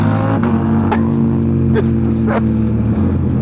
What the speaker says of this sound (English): this thing pops every time I shift